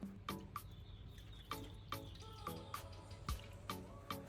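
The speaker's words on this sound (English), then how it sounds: "Use water to rinse away all the remaining plastic powder." Water rinses sanding powder off a plastic car headlight, soft splashes and drips falling in an irregular rhythm, quiet and close, with a faint tap-like trickle and no voices.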